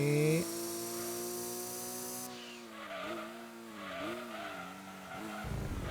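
Racing cars in Gran Turismo 2 simulation mode skid with long, wavering tire squeals over a steady engine drone, the pitch bending up and down through the corners.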